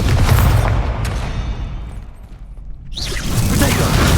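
A Hogwarts Legacy Incendio fire spell roars as a broad whooshing burst during a spell-casting fight, fading before a second fiery surge; voices are heard around it.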